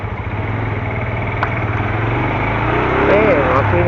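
A Benelli 150S motorcycle engine idles steadily nearby with a low, even mechanical rumble, a person talking over it toward the end.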